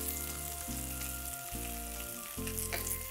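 Garlic sizzles steadily in a pan of melted butter for scallops made from king mushrooms, a constant close hiss running under louder chord-based background music.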